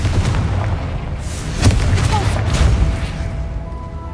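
A Confringo fire spell explodes in the Hogwarts Legacy video game, a booming blast with a sharp burst near the middle over a steady rumbling game soundscape, with voices faintly present.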